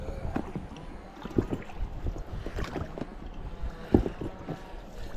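Paddling a boat on a lake during a trout fishing trip at Kelso Lake, with soft irregular splashes and dips of the paddle in the water, a couple of sharper strokes standing out, under steady wind noise.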